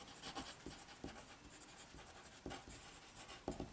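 A pen scratches out a math note on paper, steady quiet strokes with small taps, close and alone with no voices.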